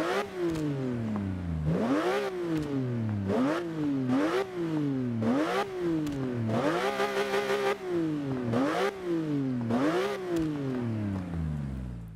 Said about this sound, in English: this thing has one of the best exhaust notes of all time